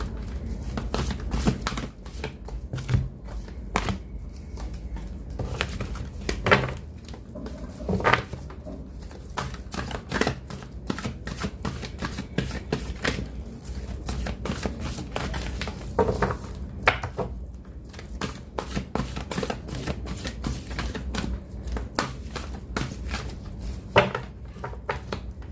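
A tarot deck being shuffled during a card reading, producing a long run of soft, rapid papery flicks and taps, close and continuous with uneven rhythm throughout.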